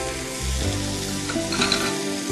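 Paneer in a strong mustard sauce sizzles loudly in a hot pan while being stirred, with a dense, continuous crackle and scraping movement throughout, close and without speech.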